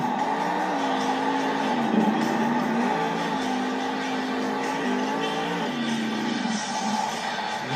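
A Monster Jam monster truck engine roars loud and sustained in an arena as the truck pulls a big sky wheelie, its pitch wavering up and down with throttle under a continuous wash of crowd noise.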